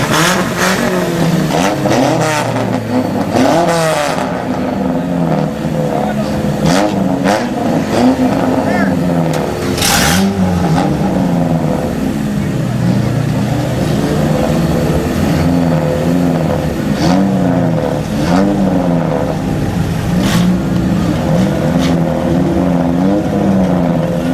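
Stock compact race cars at a small speedway idle and rev together in a continuous, loud engine drone with changing pitch sweeps, while a PA announcer talks over it throughout.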